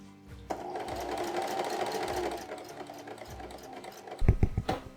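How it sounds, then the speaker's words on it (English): A sewing machine stitches the long front and back pieces of a linen-style Viking serk dress together at the shoulder, a steady close mechanical whir that runs then stops, followed by a few louder thumps and handling knocks. "take the long pieces of the dress, so the front and the back, and sew them together at the shoulder"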